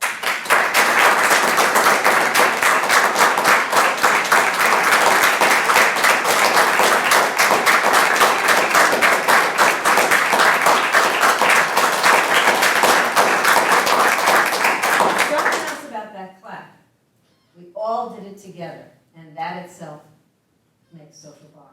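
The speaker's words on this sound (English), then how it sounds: "So let's practice clapping and see what it does." A room of people at a summit talk practise clapping together, with loud, rhythmic unison claps for about fifteen seconds that stop abruptly, followed by a speaker talking.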